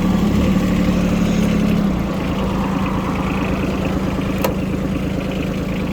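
A Kubota A14 mini tractor engine idles and chugs steadily up close while driving, a low rumbling putter with a brief click partway through, no voices.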